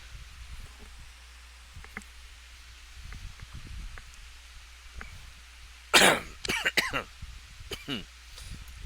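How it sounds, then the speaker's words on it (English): A person with a lingering cough hacks several times in a short burst, loud and near, after quiet rustling and faint background noise. "Yes, I still got this bloody, stinking cough."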